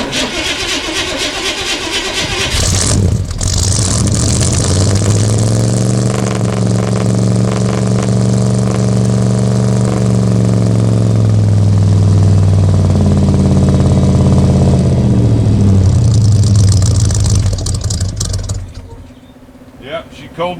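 An old Chevy C20 pickup engine, unrun for 19 years, cranks, fires and idles loudly with a rhythmic mechanical clacking, then shuts off near the end.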